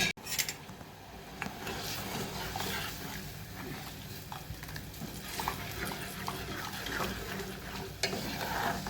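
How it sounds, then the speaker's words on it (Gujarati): A papad and curd curry simmering in a pan after water is added, giving a steady bubbling, stirring sizzle at close range, with no talk over it. "હવે બધું બરોબર ઉકળવા દઈશું."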